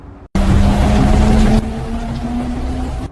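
A car engine sound effect starts after a short silence with a loud, steady motor drone, then abruptly drops to a softer, muffled hum, as if heard from inside the car, and continues evenly.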